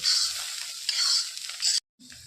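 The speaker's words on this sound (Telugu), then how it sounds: "ఇప్పుడు ఇవన్నీ మంచిగా కలుపుకోవాలి." A spoon scrapes and stirs a sizzling mixture of coriander, cumin powder and spiced coconut powder into an ivy gourd fry in a hot pan, with close, rough strokes that stop abruptly near the end.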